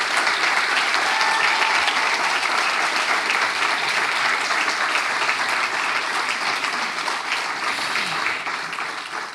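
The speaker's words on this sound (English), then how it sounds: "I ask you for a big applause, un aplaudiment per les 70 persones que avui esteu aquí" Sustained applause from a large audience at a university master's graduation ceremony in engineering, dense and steady throughout, easing slightly near the end.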